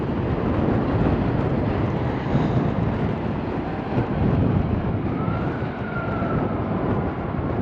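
Strong wind roars steadily and buffets the microphone at a port, a loud, continuous rushing with no talking.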